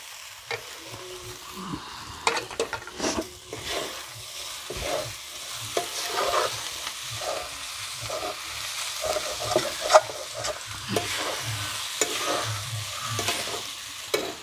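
Tomatoes sautéing in a pan for sabudana khichdi, a soft sizzle broken by frequent scraping stirs and small clinks, moderately close and irregular, with no speech.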